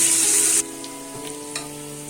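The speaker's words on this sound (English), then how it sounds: "take 1 medium sized onion, thin slightly and add into the oil and fry it till golden brown" Thin-sliced medium onion dropped into heated oil, a loud bright sizzle for the first half second that then settles into a quieter steady frying hiss with a couple of faint crackles.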